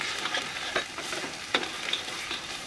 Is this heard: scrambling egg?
yes